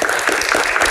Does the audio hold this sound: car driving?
no